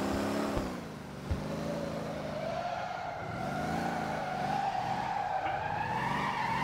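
Tires squeal as a custom-built drift car slides with its rear end loose in the driving game Motor Town: Behind The Wheel, with wavering engine revs and long skid tones and no voices.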